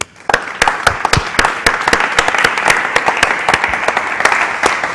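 Conference audience at a digital health insurance summit applauding a panel, with sharp, fairly sparse claps at first that fill in to steady applause over five seconds, close and moderately loud.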